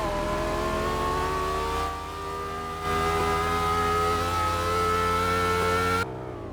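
An Audi R8 V10 coupe in a racing video game drones with a loud, steady engine note holding a constant pitch for about six seconds before the sound drops away abruptly.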